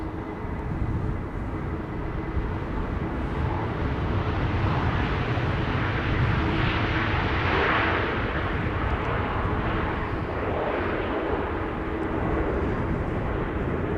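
Transavia airliner arriving at Amsterdam Schiphol on a windy day, a broad, steady jet roar that builds gently to a peak midway and then eases, heard alone at moderate distance.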